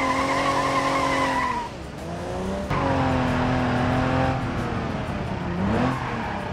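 A jeep towing a small trailer in the driving game BeamNG, its engine revving and dropping in pitch with several shifts, with tyres scrubbing and squealing, loud and continuous throughout.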